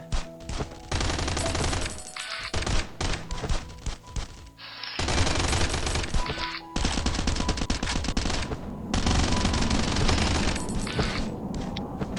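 Sustained bursts of rapid automatic gunfire with explosions from a coin-battle shooter video game, loud and dense, broken by brief pauses.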